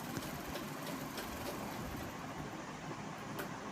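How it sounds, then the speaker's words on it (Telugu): A sewing machine runs a double line of stitching along the seam of a lined blouse, giving a steady, continuous mechanical whir at close range with no talking. "డబల్ కుట్టు వేస్తున్నాను"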